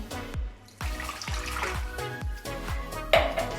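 Water pours into a pan of keema with oil, ginger-garlic paste, vinegar and spices in a series of splashing, sloshing pulses, fairly close and moderately loud, with no talking.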